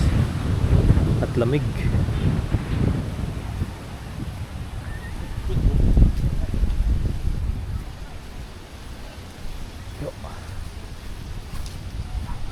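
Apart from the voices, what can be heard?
strong wind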